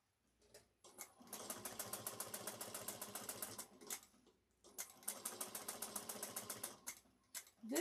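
A sewing machine runs in two long bursts of rapid, even stitching, top stitching around the flap of a shoulder bag, with brief pauses between runs and a short clack at the end.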